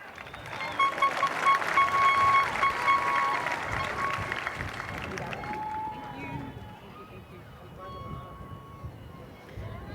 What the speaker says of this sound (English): Another round of applause for Superintendent of School, Dr. Priscilla Canales